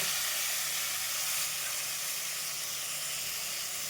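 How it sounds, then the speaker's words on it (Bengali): Chicken for a pizza topping fries in a pan with oil and butter, a steady bright hiss of sizzling fat heard close and even throughout, with no voices. "মাংসটা দিয়ে দিলাম এটা ভালো করে এবার ভেজে নিতে হবে"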